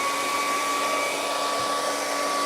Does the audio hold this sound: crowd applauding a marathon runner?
no